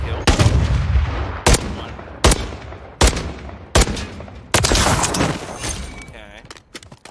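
Loud, close single rifle shots from an MCW in Call of Duty Warzone, about six sharp cracks roughly evenly spaced with ringing tails, a denser burst near the end, and someone speaking briefly.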